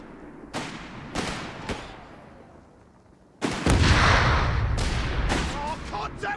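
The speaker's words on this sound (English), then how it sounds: "Small arms fire! Everywhere! Let's grenade them again though." Small arms and grenades in the strategy game Company of Heroes 3: scattered sharp gunshots at first, then a loud, heavy blast and rumbling fire with more cracking shots layered over it.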